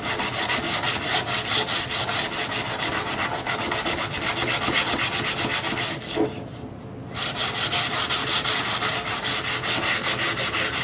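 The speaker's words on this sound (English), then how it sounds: "with some fairly coarse sandpaper to smooth all the big rough areas down. Here, call it coarse sanding." Coarse sandpaper is worked on a wooden snow snake in long, steady back-and-forth strokes, a continuous close rasping scrub with a brief pause midway.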